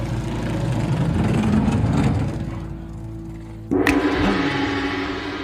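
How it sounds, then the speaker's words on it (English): Custom motorcycle engine rumbling and revving, a steady low roar through the first few seconds that dips, then jumps back louder with a brief sharp burst near the end, close and continuous with no talk. "some riders like to customize for that special engine roar."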